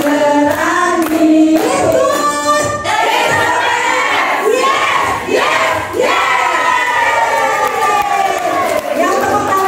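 An audience at a LiveGood business event claps amid loud crowd voices shouting and chanting, a dense, energetic roar of hands and raised voices that stays loud throughout.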